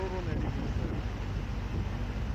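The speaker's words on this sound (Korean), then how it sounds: "바람도 많이 불어서 정말 비가 가로로 내리더라고요." Strong wind blasts across the microphone at an open, roofless lookout in Manaus, Brazil, during driving rain, making a low, rumbling, buffeting roar that fills the whole short stretch.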